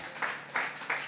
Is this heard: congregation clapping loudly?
yes